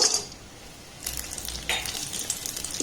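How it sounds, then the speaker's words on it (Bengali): Cashew nut pieces frying in hot ghee in a pan, a close, continuous sizzle with a few quick stirring scrapes, and no talking. "বাদামটাকে একটু নাড়াচাড়া করে ভেজে নেবো"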